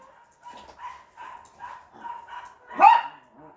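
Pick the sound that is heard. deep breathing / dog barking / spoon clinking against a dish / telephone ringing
dog barking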